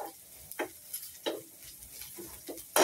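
Chopped onions cooking in a pan for breaded pork chop with mushroom gravy, a soft steady sizzle broken by several scraping stirs of a utensil against the pan, close up with no talking.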